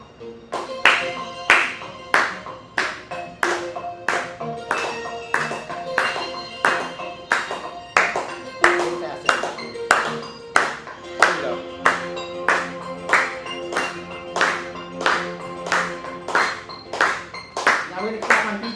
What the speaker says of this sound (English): Clap on the 1, 3, 4.